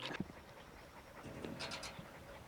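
A German Shepherd Coolie cross working dog pants in the Outback, quick rhythmic breaths close by, with faint whimpery tones and no talk.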